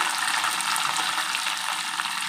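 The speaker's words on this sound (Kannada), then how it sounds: "ಸ್ವಲ್ಪ ಫ್ರೈ ಮಾಡ್ಕೋಬೇಕು ಹಸಿಮೆಣಸಿನ್ಕಾಯಿ" Green chillies fry in a hot pan with cumin seeds, giving a steady, dense sizzle with a faint crackle. The sound stays loud and even throughout, with no voices.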